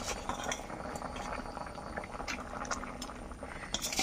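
A mashed potato and tomato mixture for a fish roe bhuna simmers in a pot, giving a steady, close bubbling sizzle with occasional faint utensil clinks.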